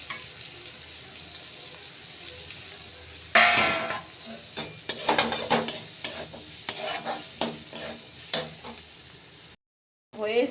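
Chopped green chilies hit a hot pan for chow mein, with a quiet start giving way to loud sizzling frying and repeated clattering stirs of a spatula, continuing in bursts before a brief cutoff near the end.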